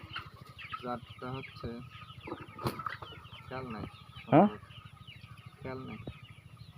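Chickens cluck and squawk repeatedly in a large two-shed poultry farm, a steady busy flock close by with one louder squawk, while someone talks over them.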